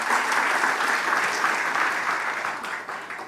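A church congregation at a service applauds loudly and continuously, a dense wash of clapping that tapers slightly toward the end.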